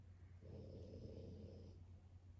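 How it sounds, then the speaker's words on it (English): A small, pig-faced dog snores softly nearby, with one faint, drawn-out snore rising over a low steady hum in a quiet room. "can y'all hear my dog snoring over there?"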